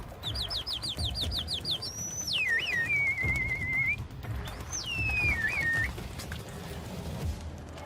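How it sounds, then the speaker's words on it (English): A man whistles to call pigeons to his coop in Egypt: a quick run of warbling notes, then two long sliding whistles that dip and level off, over a low outdoor rumble. "waves and whistles to entice them to his coop"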